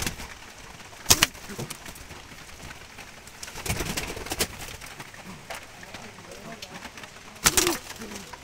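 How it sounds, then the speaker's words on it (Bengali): Brown Jalali wild pigeons, a female and male, coo in low repeated calls, punctuated by a couple of sharp bursts of nearby movement. "দেখুন দর্শক, এটা একটা মাদি কবুতর, খুবই সুন্দর"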